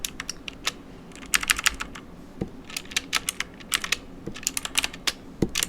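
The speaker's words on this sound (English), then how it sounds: "Sorry for the keyboard clicks, but that's the only way to move these around." Computer keyboard clicks during a live music session, quick irregular bursts of close, crisp key taps with short pauses in between, no voices.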